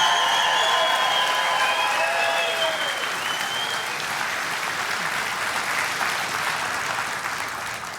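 Sustained, loud audience applause at a crowded event, a dense wash of clapping that holds steady for about eight seconds, with some high whistles and cheers in the first few seconds.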